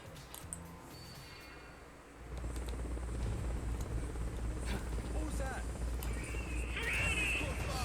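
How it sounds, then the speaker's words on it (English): Mi-24D Hind helicopter in the video game Metal Gear Solid: Peace Walker, a loud steady rotor and engine roar that swells in after about two seconds and holds, with gunfire-like bursts and game effects layered over it. "It was a Hind D. A 24D."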